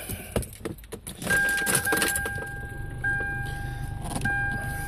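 A truck with about 400,000 miles starts up: keys jangle and rattle, then the engine catches and settles into a steady idle with a faint electronic chime sounding on and off.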